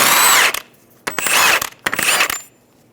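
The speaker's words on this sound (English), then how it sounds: "Using a 30mm axle nut socket, we're going to remove the axle nut." A power tool fitted with a 30mm axle nut socket works an axle nut loose on a 2007-2011 Toyota Camry, three loud close bursts of whirring and rattling separated by short pauses.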